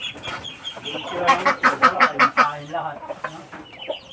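Breeder chickens cluck loudly in a busy flock as feed is given out, a nearby voice talking over the rhythmic burst of calls.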